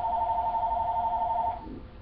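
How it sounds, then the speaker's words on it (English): A telephone rings with a steady electronic tone that holds for about a second and a half, then cuts off, leaving quiet room noise. "the phone's ringing during the middle of my review"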